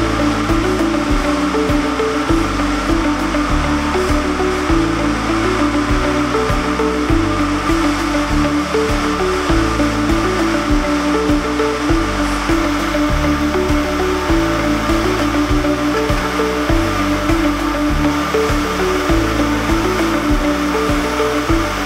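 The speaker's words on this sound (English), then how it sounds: "the finest sliver is loaded into the Simplex machine" A Simplex roving machine running in a yarn mill, turning carded sliver into roving, gives a loud, steady mechanical whir with a faint rhythmic chatter underneath, continuous and unbroken, with no voices.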